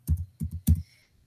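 Three short bursts of keystrokes on a computer keyboard, close and fairly quiet, grouped into quick taps with brief pauses between them and no talking.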